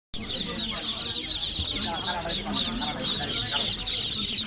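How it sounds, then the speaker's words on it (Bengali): Young local duck chicks, four days old, peep and chirp in a dense high-pitched chorus at a busy outdoor bird market, steady throughout with faint crowd murmur beneath. "এগুলো কি হাঁসের বাচ্চা?"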